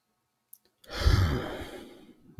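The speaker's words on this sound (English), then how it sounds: "deep breath." A single slow, deep breath taken near the microphone during a quiet guided stillness session, a soft rising inhale swelling into a long airy exhale, then near silence.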